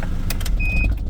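A warm diesel van with glow plugs makes a quick hot start: a short burst of low engine rumble with a brief high whine, close by and lasting about a second.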